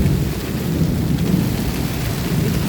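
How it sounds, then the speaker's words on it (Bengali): Heavy rain pours down in a steady, dense roar, with a deep thunder rumble rolling underneath, continuous and close with no voices. "আল্লাহ পাকের মেহেরবানি যে এমন বৃষ্টি হচ্ছে।"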